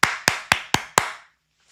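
Five sharp hand claps in a quick, even rhythm, close and crisp, each with a short ringing tail, followed by silence.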